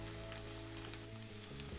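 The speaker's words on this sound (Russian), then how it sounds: "Грибочки надо чуть подольше пожарить." Potatoes, onions and mushrooms frying in a pan, giving a soft, even sizzle with faint crackles under a steady background hum.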